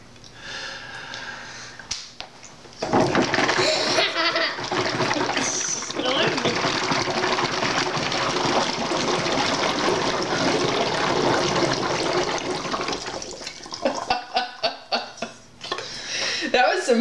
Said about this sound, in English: Some vigorous blowing there. There's no more water in there.